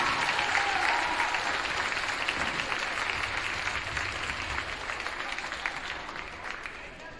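Sustained applause from a crowd at a high school girls' varsity basketball senior night in Fordland, steady and dense throughout, gradually tapering slightly, with some faint voices mixed in.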